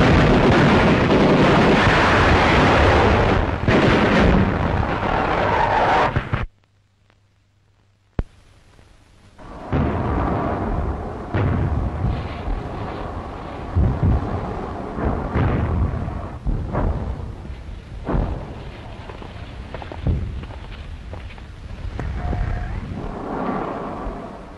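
A wartime artillery shell exploding on the ground in June 1940, giving loud, rumbling blasts with a brief gap of near silence, then continuing booms and rolling debris-like noise, with no talk.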